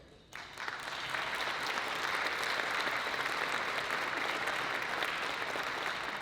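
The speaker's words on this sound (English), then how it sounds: "I would love for us to give a huge round of applause for our visionary sponsor for tonight" A large gala audience applauds a sponsor at an evening public-policy awards event, the clapping starting abruptly after a brief quiet moment and holding as a steady, dense wash of many hands.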